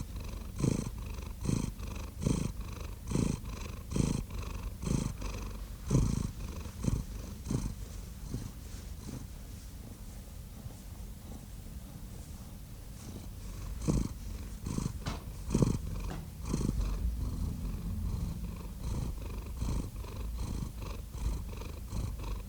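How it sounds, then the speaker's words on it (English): A pet cat purrs up close, a steady rhythmic rumbling with regular breathing pulses, soft and continuous for over twenty seconds with no voices. "So here for your listening pleasure is Grace purring while glaring at me."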